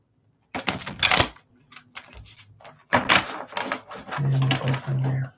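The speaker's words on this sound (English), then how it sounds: "Okay, let's do 2 more shuffles." A deck of tarot cards riffled and bridged close up in several quick papery bursts, with short taps and a low murmur between shuffles.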